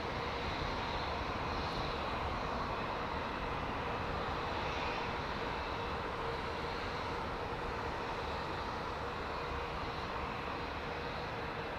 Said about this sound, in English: you can hear the difference between that aircraft and the LEAP-powered aircraft,